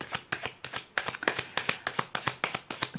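Tarot cards are shuffled in a quick, steady run of crisp riffling bursts, about a dozen sharp papery flicks across the stretch, close and fairly loud with no voice over them.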